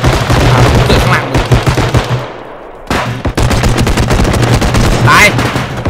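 Rapid automatic gunfire in the realistic shooter Bodycam, loud bursts of close shots that pause briefly partway through and then resume in dense volleys, with a voice speaking faintly underneath.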